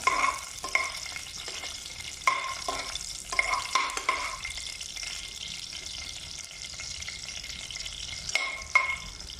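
Garlic frying in a little oil for chicken tinola, a steady close sizzle with periodic stirring scrapes and clinks of a utensil against the pan.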